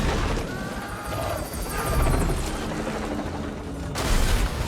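A helicopter's rotor drones steadily throughout, with whirring mechanical tones and a brief louder burst near the end.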